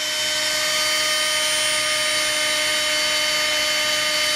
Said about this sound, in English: these stupid drill bits won't even cut through butter